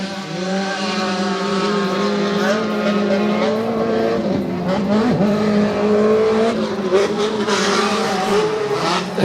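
An SR1-class off-road race buggy roars past on the Glen Helen course during a Lucas Oil regional race, its loud, steady engine note rising and falling as it passes, with other race engines and faint commentary mixed in.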